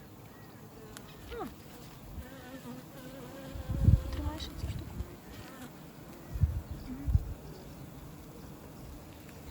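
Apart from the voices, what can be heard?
honeybees buzzing in a hive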